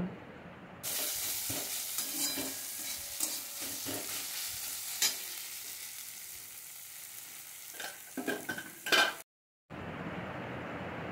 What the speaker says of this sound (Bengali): পেঁয়াজটা ভেজে নিয়েছি আর আমি দিয়ে নিলাম টমেটো দিয়ে আমি এইভাবে কিছুক্ষণ একটু নাড়াচাড়া করে টমেটোটা